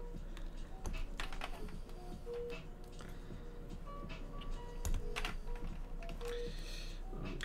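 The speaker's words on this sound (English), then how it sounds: "these switches feel hella tactile when I'm putting this uh, these keycaps on" Keycaps snapped one by one onto tactile Holy Panda mechanical switches in a brass J-01 keyboard, giving scattered close, light clicks and clacks with a few sharper taps.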